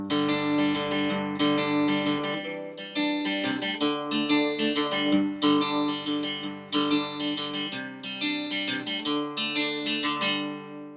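A guitar plays a song part at full speed, with a steady stream of strummed chords and short riffs chopped into a driving rhythm, clean and fairly quiet, with no voices.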